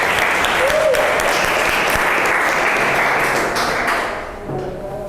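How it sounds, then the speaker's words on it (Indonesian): Schoolchildren applaud a classmate group during a practice teaching lesson. Loud, steady clapping fills the room, then fades away near the end. "Tepuk tangan untuk kelompok A."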